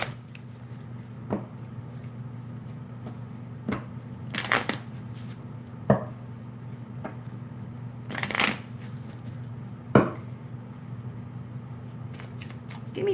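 Tarot cards being shuffled by hand, a series of quick riffling bursts separated by pauses over a low steady hum, close and fairly soft, with no talk.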